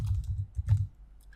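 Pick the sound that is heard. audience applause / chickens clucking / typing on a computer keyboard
typing on a computer keyboard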